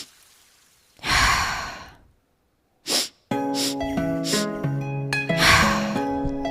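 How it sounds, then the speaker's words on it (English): A three-part sipping inhale through belly, chest and throat, heard as a long airy breath, a short sharp sniff, then another breath layered over soft sustained music, close and fairly loud. "How would that sound like would be sip, sip, sip 3 times from belly, chest, and then throat."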